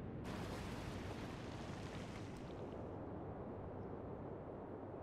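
Naval gunfire in the video game Atlantic Fleet: one loud, sudden boom erupts and rolls on as a long, dense rumble that slowly thins over several seconds, with no voices.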